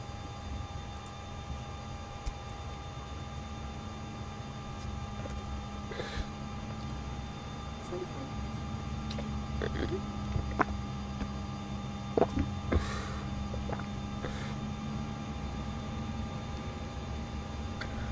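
A steady aircraft engine drone from a flight simulator game, an Airbus on the ground, holds as a constant low hum with faint tonal lines throughout, plus a few brief clicks near the end and no talking.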